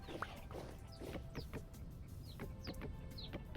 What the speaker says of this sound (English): Hello, chickens, it is I.